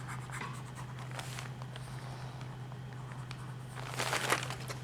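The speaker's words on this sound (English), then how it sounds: "rubbing the wooden tool along the metal" A wooden tool is rubbed in small circles over a thin metal sheet for embossing, a soft, close scratchy rasp in faint bursts over a steady low hum, with a louder scrubbing patch near the end.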